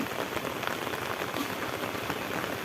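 Heavy rain pours steadily on a rural Thai work site at Ban Huai Pla Yai, a dense, continuous hiss of drops drumming on surfaces, close and loud without pause.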